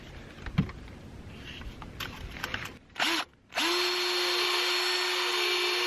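Power drill spinning a wire brush to clean rust out of the hitch mounting holes on a Toyota Matrix, with a few short whirring bursts and then one loud, sustained grinding run close by.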